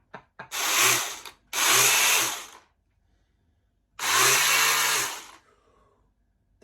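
A Milwaukee Quik Loc cordless pole chainsaw, run without chain oil, whirs up in three loud, close bursts of high motor whine, the first two close together and the third after a silent pause.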